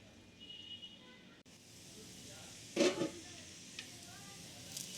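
Sliced onions frying in hot oil until golden for biryani give off a faint, steady sizzle and hiss, broken by a brief louder scrape of stirring partway through.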